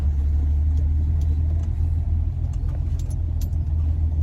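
A restored 1955 FJ Holden Special sedan on the move, heard from inside as a constant low engine and road rumble with faint light rattles over the top, no voices.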